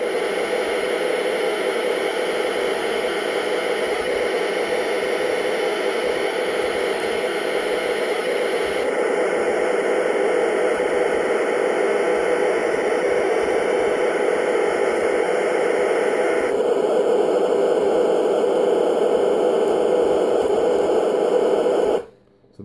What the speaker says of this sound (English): They're the different fixed rates of noise you can have